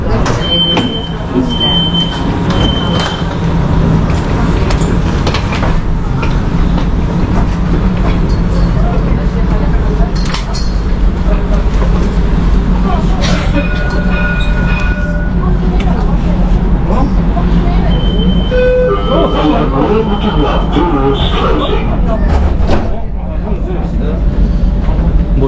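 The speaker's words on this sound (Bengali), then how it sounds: "বসে পড়লাম ট্রামে।" Riding a Dubai tram: a loud, constant rumble of the moving carriage with sliding-door sounds and short electronic chime tones, and voices talking in the background throughout.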